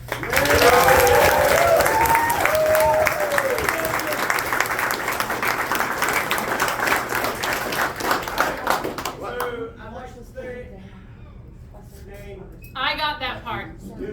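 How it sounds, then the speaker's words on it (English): Crowd applause at a court ceremony for a spring coronation, loud dense clapping for about nine seconds before fading, then a few voices speaking and scattered laughter. "Please give them a round of applause."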